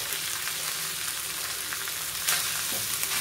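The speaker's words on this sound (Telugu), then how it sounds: "ఇప్పుడు అది వాము కూడా వేగింది, ఇప్పుడు ఈ రైస్ వేసేస్తున్నాను." Rice tipped into a pan of fried ajwain seeds, giving a steady, fairly faint frying sizzle with a brief stir or clatter near the end.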